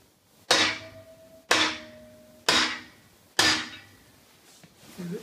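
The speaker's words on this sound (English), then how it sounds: "And take your little hammer." Four crisp metallic taps from a small hammer while removing a dry sleeve cylinder liner from a Perkins diesel in a JCB backhoe, spaced about a second apart, each ringing briefly before fading, with quiet in between.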